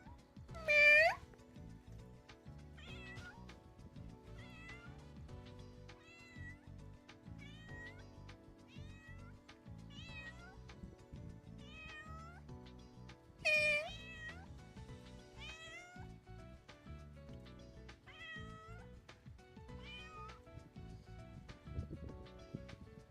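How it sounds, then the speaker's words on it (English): A talkative black cat meowing repeatedly over about twenty seconds, a series of close chirpy meows with a few louder, longer cries standing out against a quiet background. "it's a very talkative and friendly black cat"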